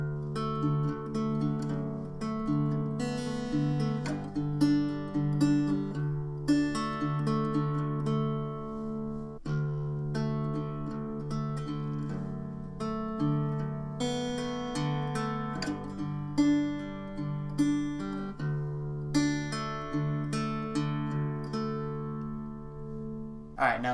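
Acoustic guitar fingerpicking the intro of a song, individual plucked notes in a steady repeating pattern ringing over sustained bass strings, moderately quiet and alone.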